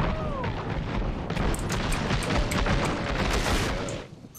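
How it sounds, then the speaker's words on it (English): A video game airstrike explodes as a dense, rumbling burst of blasts that roars loudly for about four seconds before cutting off. "That's probably gonna be an airstrike."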